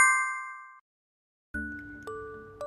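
Bright notification bell dings ring out cleanly in isolation: one clear chime, a pause, then a short run of three quicker dings, each fading quickly.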